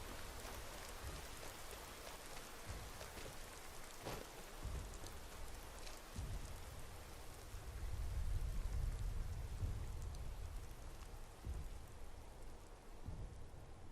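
Light rain falls in the Skyrim video game with a weather mod, a steady broadband patter that swells slightly louder midway, with a faint low rumble that may be distant thunder; no talking.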